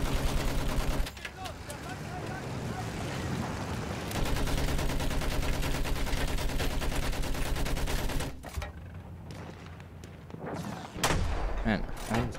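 Gunfire in Battlefield 1 during a Conquest match, repeated rapid shots and bursts mixed with heavy thumps and battle noise, with brief pauses between volleys.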